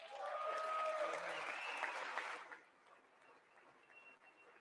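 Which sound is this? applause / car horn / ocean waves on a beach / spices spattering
applause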